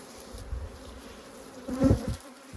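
Honey bees hum steadily at an open hive as a beekeeper adds a wax foundation frame ahead of the acacia flow. The dense buzzing swells louder and closer for a moment near the end, with no talk.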